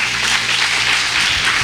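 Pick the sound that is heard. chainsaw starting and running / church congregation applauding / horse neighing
church congregation applauding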